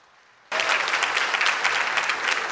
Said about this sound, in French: je vous demande, mesdames, messieurs, de bien vouloir applaudir Ruth Ginny Fils-Aimé